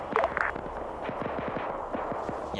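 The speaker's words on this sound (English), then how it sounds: "I think we heard gunfire over there when they were attacked" Distant gunfire in a military video game: a scattered run of sharp cracks and short bursts, fairly faint and echoing, over steady background noise with no talk.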